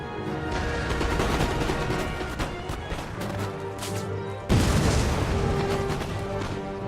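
Musket volleys crackle in Empire: Total War, a dense, sustained roar of gunfire with a heavier burst midway, loud and alone.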